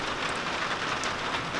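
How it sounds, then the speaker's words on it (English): Rain pours down around a porch in a dense, constant hiss with scattered nearby drips, loud and even throughout, with no voices. "I'm just going to let y'all look at the rain for a minute."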